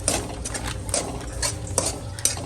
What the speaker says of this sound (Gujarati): હલાવતા જ રહેવું પડે ને બા?